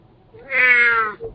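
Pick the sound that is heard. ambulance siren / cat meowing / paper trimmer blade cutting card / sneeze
cat meowing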